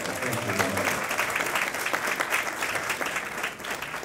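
Steady applause from an audience at a university chapter's annual scholarship banquet, a dense patter of many hands clapping continuously at even loudness throughout, with no voices standing out.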